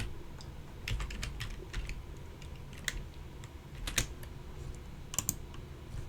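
Keys clatter on a computer keyboard in quick irregular bursts of taps with short pauses between, close and fairly quiet in a calm room, as security details are typed in again.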